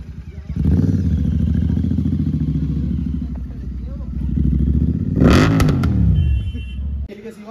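Royal Enfield Interceptor 650 parallel twin fitted with a Red Rooster aftermarket exhaust, idling with a deep, loud burble and then revved hard in a couple of blips, with people talking over the engine.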